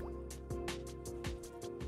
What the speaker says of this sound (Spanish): Ponemos un poco de agua